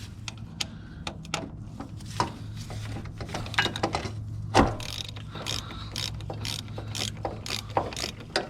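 A socket ratchet working loose a 13 mm bolt on the starter of a Mercedes ML W163 SUV, producing close, rapid runs of clicking pawl ticks in irregular bursts, with a few clunks of tool handling and no talking.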